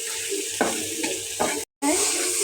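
Spices sautéed in a pan give a close, moderate sizzle with a few soft scraping strokes of a spoon, a sudden brief silent gap, then the frying hiss resumes.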